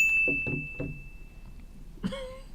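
A phone timer gives a single bright ding, a clear sustained tone that starts the clip and rings on faintly for over a second, followed by a short cluster of chime tones near the end, with no talk.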